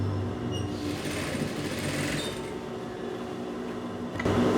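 A sewing machine stitching fabric for a blouse, running as a steady close mechanical hum and rattle that stops briefly near the end.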